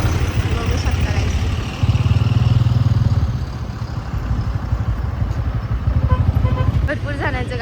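Busy road traffic with engines idling and rumbling close by, a steady low drone broken by short horn toots toward the end, with voices faintly in the mix.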